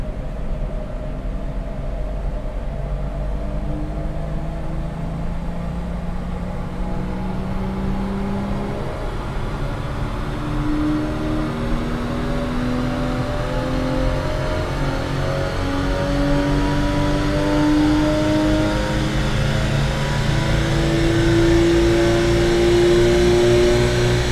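Porsche engine with about 159,000 km on it, pulling hard on a dynamometer in a long, steady rising rev, the engine tone climbing smoothly in pitch and growing louder through the run.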